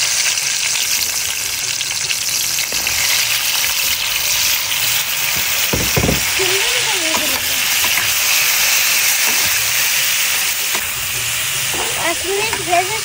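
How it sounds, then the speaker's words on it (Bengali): Spiced, masala-coated pointed gourd fries in hot oil with a steady, loud sizzle and hiss throughout, with occasional stirring clatter and someone speaking over it at times. "তো এবার আমি গরম তেলে সুন্দর মতন ভেজে নেব।"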